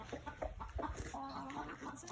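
A chicken clucks close by in short, irregular bursts over a couple of seconds, fairly soft against a quiet background.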